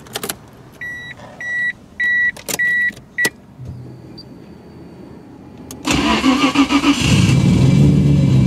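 A 1997 Nissan Skyline GT-R V-Spec R33 sounds several warning beeps and clicks, then its engine cranks and catches with a loud close roar that settles into a strong, rumbling idle.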